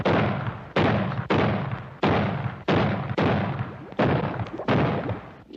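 Gunfire in the 1960s Spider-Man cartoon: about eight loud, blasting shots in a steady, evenly spaced rhythm, each one cutting off sharply before the next.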